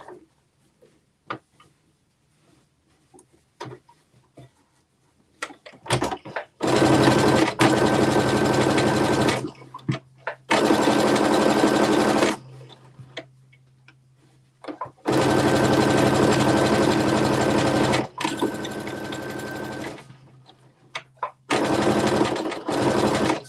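Home sewing machine stitching a top and shorts in rapid, loud bursts of motor whir, separated by short pauses where the needle stays down and the fabric is pivoted, with faint clicks and handling noises in between.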